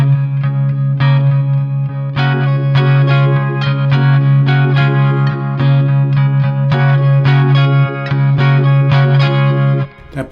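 Guitar playing a part, fingers alternating on the third string over a droning low note, a rhythmic chiming pattern with chorus and reverb, steady and loud with no talking.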